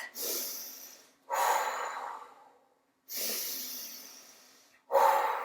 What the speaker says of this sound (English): I'm going to do my big, strong bear breath